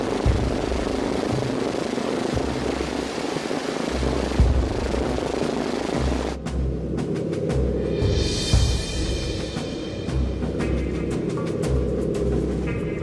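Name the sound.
American bomber plane engines in flight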